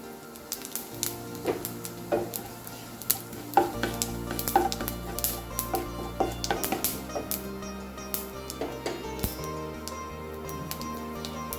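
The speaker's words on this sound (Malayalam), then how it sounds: "എണ്ണ ചൂടായിട്ടുണ്ട് കുറച്ച് ജീരകം പൊട്ടിക്കാം" Cumin seeds crackle in hot coconut oil at the start of a cauliflower masala, a close run of sharp pops and spatters over a soft sizzle, with scattered clinks of a utensil against the pan.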